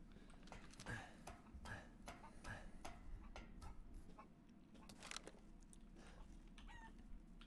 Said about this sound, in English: That's chickens that I hear